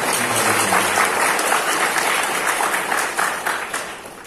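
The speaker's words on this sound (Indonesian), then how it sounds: "Tepuk tangan untuk SMP." A school audience at an anti-drug student pledge event breaks into dense, sustained applause, loud and steady throughout before easing slightly at the end.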